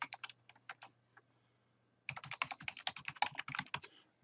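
Keystrokes on a computer keyboard: a few scattered, quiet taps, a short pause, then a quick run of close, crisp typing.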